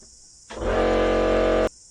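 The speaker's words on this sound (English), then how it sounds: "Not much good when the compressor kicks in just as you're doing a video." An air compressor used while inflating a moped tyre kicks in abruptly, holds a loud steady droning hum with a strong low rumble for about a second, then cuts off sharply.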